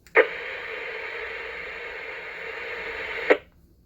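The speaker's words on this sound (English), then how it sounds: "we're getting a good repeater tail" Two-metre amateur radio repeater tail after a transmission: a steady hiss of static opening and closing with sharp clicks at each end, lasting about three seconds, with no voices.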